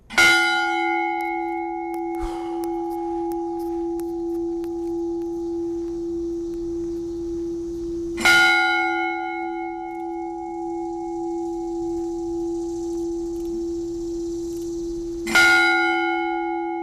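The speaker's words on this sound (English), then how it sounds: "The Virginia War Memorial rang a bell at a Patriots Day ceremony" A large memorial bell at a Patriots Day ceremony at the Virginia War Memorial tolls three times, each strike ringing out with a long, humming sustain that fades slowly between the widely spaced hits.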